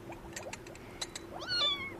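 A kitten meows once, clear and close, rising then falling in a short plaintive cry, with faint background sounds before it and no talking.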